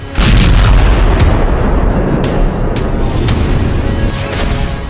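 A loud, booming explosion in a street of shops in Rohini, Delhi, with heavy low rumble that lingers, broken by a few sharp cracks over several seconds.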